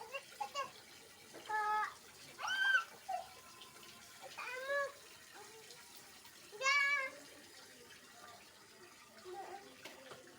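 Water is poured over a child during a bath, a soft running splash under repeated short, high whiny vocal cries that come and go.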